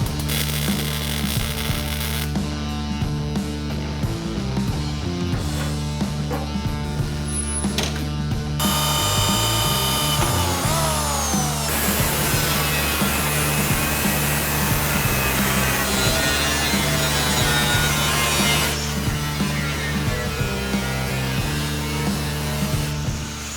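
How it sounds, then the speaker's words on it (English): Grinder working over fresh welds on reproduction sheet metal for a 1955 Chevy Tri-Five sedan build: a steady, close, continuous grinding drone with shifting pitch and rougher bursts, running without pause and with no talking. "And then I'll just grind it and make sure it's all good."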